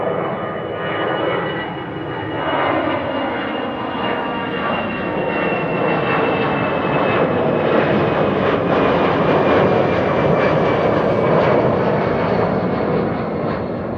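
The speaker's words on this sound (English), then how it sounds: "EasyJet A319 on its way to Stansted" An easyJet Airbus A319 jet takes off from the Kaagbaan runway at Amsterdam Schiphol. Its loud, continuous engine roar rumbles steadily and builds slightly throughout, with no voices over it.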